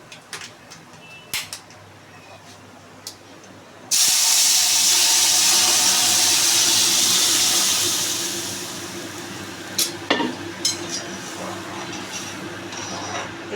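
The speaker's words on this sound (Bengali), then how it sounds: "এবার আমি চালটা এতে ঢেলে দিচ্ছি" Rice poured into a pot of cooking mung dal with fried chilies sets off a sudden loud sizzling hiss that fades over several seconds, followed by a few faint clinks in a quiet kitchen.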